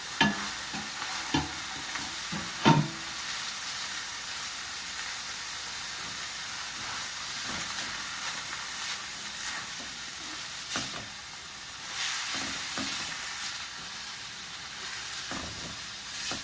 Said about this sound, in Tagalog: ilalagay na natin yung puting sibuyas